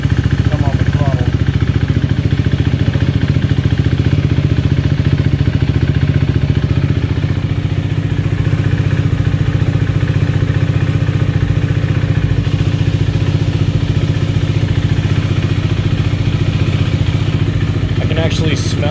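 A KTM Duke 390 motorcycle engine with an aftermarket Powertronics ECU runs steadily and loud throughout, with throttle blips near the end and a short burst of talk over the engine.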